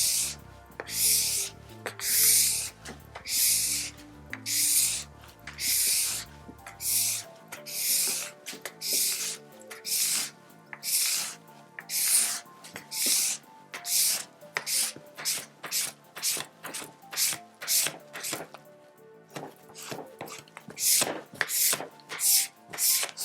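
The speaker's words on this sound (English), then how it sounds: "the scraper in a way that I'm peeling the wax off the base" A plastic scraper drags repeatedly along a race ski base, peeling off wax in steady rasping strokes, each a loud, close scrape followed by a short pause, continuing rhythmically with no talk.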